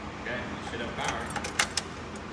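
Keys for a Jeep MJ Comanche jangle in a quick cluster of metallic clinks, close by, over low garage background noise.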